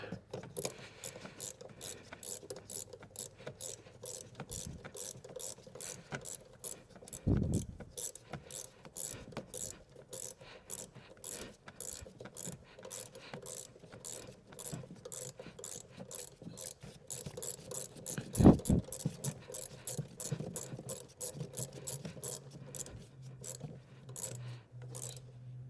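A ratchet wrench turns the bolt on a new seat belt tensioner assembly in an Infiniti QX80, giving a steady run of close, crisp clicks with a couple of louder knocks along the way.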